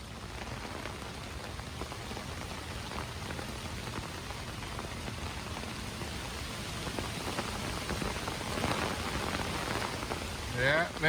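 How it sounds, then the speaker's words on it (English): A heavy downpour drums steadily on a campsite, a dense, continuous hiss of rain close by that swells slightly louder toward the end. "Yeah, there's our downpour."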